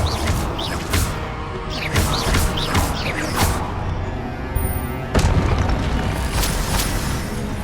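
Confringo spell blasts in Hogwarts Legacy, a series of loud explosive booms fired in quick succession over a constant rumbling game backdrop, with another burst of impacts toward the end.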